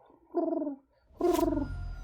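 A human voice imitates a pigeon's cooing mating call with two low, throaty warbling coos separated by a short pause, close and fairly quiet.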